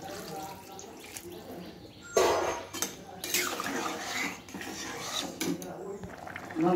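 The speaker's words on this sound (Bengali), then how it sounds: "এখন দিয়ে দেবো পরিমাণ মতো জল" Water is poured into a cooking pot of boiled stems and potatoes, a splashing rush that starts abruptly and comes in uneven bursts with clinks of metal utensils and pot.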